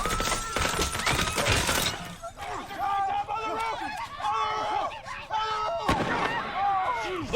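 Gunfire in a tense TV show rooftop scene, sharp loud shots and crashing impacts followed by shorter cracks, heard under excited reaction voices.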